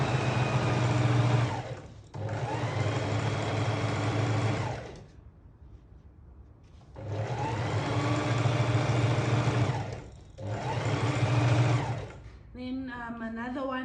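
A sewing machine stitches and back tacks a zip onto a cushion, running close and steady in four long bursts, with a pause near the middle and a short final whir.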